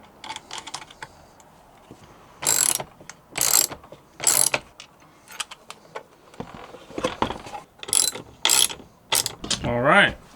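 Washer and nut being tightened onto an electrical switch during a 12V camper van wiring install in a Citroen Relay, heard as bursts of close metallic ratcheting and clicking, repeated several times with short pauses between.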